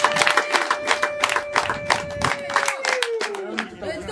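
Audience clapping continuously at a family visit gathering, a dense steady patter of many hands with a sustained tone running underneath that bends downward near the end.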